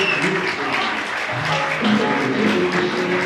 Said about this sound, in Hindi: हो जाए एक दनादन तालियों की बरसात